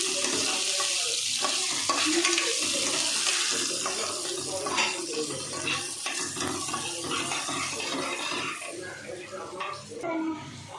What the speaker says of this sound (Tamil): ஆனியனை நல்லா ஃப்ரை பண்ணலாம்.